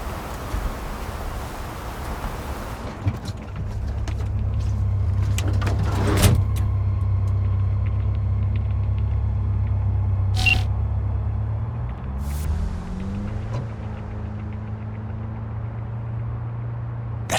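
A car engine idles and revs in the Cyberpunk 2077 video game, a steady low rumble running throughout with a few sharp clicks and whooshes layered on top.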